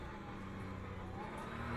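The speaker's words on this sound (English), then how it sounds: "I agree that this is a really good sounding car in this game." Porsche 992 race car engine in the Le Mans Ultimate racing game at Spa, a steady low drone with faint higher harmonics, holding constant and moderately loud without pauses or talk.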